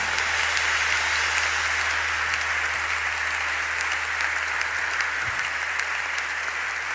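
Church congregation at a conference session applauding to acclaim God: sustained, dense clapping from a large crowd, steady and loud throughout without pause.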